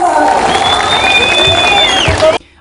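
A crowd claps and cheers loudly for a couple of seconds, then the applause cuts off abruptly.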